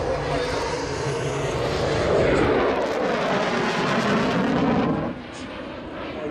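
A Saab Viggen fighter jet of the Swedish Air Force passes as a loud, broad, rushing engine roar that swells around the middle and eases slightly toward the end, with a voice talking over it.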